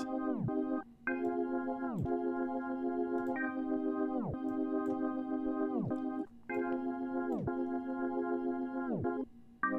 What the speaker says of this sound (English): Of course, you hear the tape stop in it too.